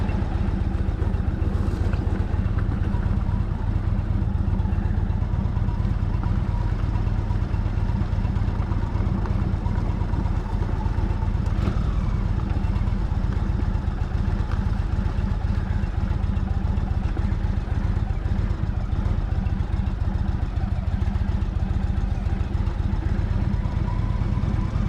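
A motorcycle engine idles nearby in a steady, continuous low rumble with faint mechanical clatter, heard alone without speech.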